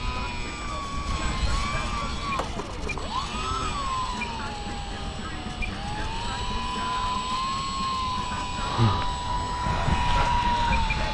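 A micro STOL model airplane flies a touch and go in extreme wind, its small electric motor holding a steady, whining drone that rises and falls in pitch under constant wind noise.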